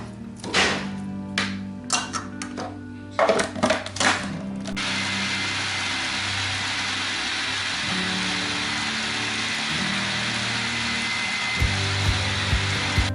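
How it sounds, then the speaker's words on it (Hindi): Mutton mince with spices blended in an electric blender: a few clattering knocks and short bursts, then a loud, steady whirring motor that runs on without a break, with no talking. "एक दफ़ा ब्लेंड कर लेंगे"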